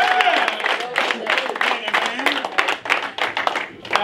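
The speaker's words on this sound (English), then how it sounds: "Let's give him a round of applause." A crowd gives a round of applause at a Hall of Fame induction night after a basketball win, with scattered clapping mixed under someone talking.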